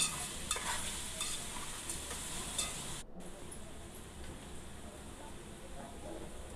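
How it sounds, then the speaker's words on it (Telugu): Onions frying in a pan for a village-style egg and silver fish curry: a faint, steady sizzle with soft stirring, with a brief gap about halfway through. "ఉల్లిపాయలు బాగా వేగుతాయి"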